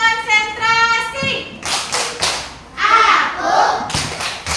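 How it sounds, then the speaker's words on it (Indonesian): A class of children doing the concentration clapping routine with their teacher. Voices sing-chant first, then a series of sharp, loud group claps lands in a quick rhythm. "Tepuk konsentrasi."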